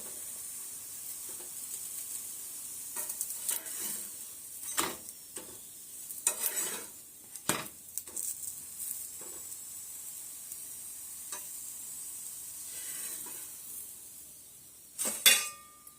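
Thalipeeth flatbread roasts on a hot pan with a soft, fairly quiet sizzle, broken by occasional scrapes and light metallic taps from turning it.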